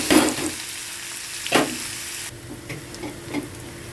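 Onion dropped into hot oil with whole spices (cinnamon, star anise, cardamom, pepper, cloves) in a pan, giving a sharp sizzling burst then fainter crackle and a later second splash, with no talk.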